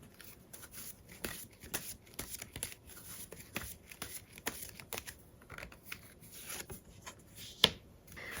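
Tarot cards shuffled and drawn from a deck during a weekly fortune reading, a run of soft, quick papery riffles and clicks with one sharper snap near the end, close and quiet, with no talking.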